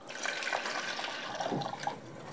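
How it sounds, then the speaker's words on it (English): Water pours and splashes steadily into a foldable electric food steamer being filled, a continuous close gurgling stream with small drips, no talking. "Gotta fill it with water"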